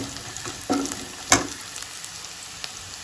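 Whole dried red chillies frying in oil for betho shak, a faint low sizzle with a few light clicks and a spoon tap against the pan.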